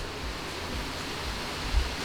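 A waterfall outside a Japanese ryokan gives a steady, even rushing hiss, heard from indoors at moderate level with no speech, only a faint low thump near the end.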